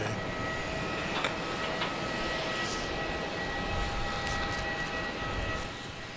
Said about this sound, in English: We've got a Jetstar taxiing out here in front of us.